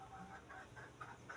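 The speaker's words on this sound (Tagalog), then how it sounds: "Ito yung manok nila rito malaki." A large chicken on a farm clucking faintly in a short run of soft, repeated clucks over quiet background noise.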